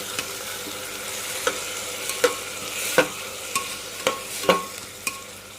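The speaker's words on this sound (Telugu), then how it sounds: "ఇప్పుడు వేసుకున్నాక చక్కగా కలుపుకోవాలండి" Banana stem pieces and fried moong dal are stirred in a pan over a low background sizzle, with a series of distinct spatula scrapes and taps about every half second.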